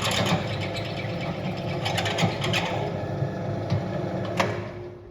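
A drill works steadily through a metal piece, a continuous mid-level mechanical whir with faint rhythmic ticking and grinding close by, with no speech.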